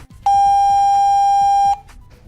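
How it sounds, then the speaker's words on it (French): A single long electronic beep from a Diagral alarm keypad, confirming a code, holds steady for about a second and a half, loud and clear, with faint clicks before and after. "Le clavier confirme par un bip long."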